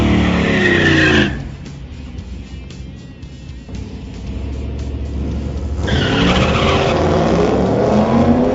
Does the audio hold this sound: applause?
no